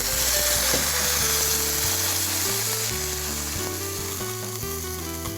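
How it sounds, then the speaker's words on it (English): Ribs are deglazed with leftover coffee over an open fire and give off a steady, close sizzling hiss. A repeating low tonal pattern and faint knocks run underneath, and no one talks. "those ribs get deglazed with leftover coffee"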